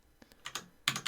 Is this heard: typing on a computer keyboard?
yes